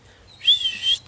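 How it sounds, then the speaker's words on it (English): A single short, high whistle blown by a person calling a dog outdoors, clear and steady for about half a second over quiet background. "I'm going to whistle."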